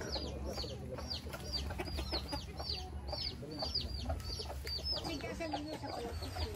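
Chickens in a rural province yard cluck repeatedly in short, scattered calls at moderate distance over a low background hum.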